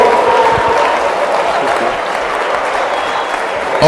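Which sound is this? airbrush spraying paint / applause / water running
applause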